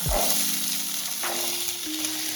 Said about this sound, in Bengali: এবার আমি আলুটা ভাজা বসিয়ে দিয়েছি